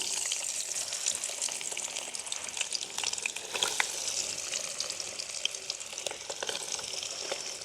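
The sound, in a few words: paneer frying in hot oil with salt and turmeric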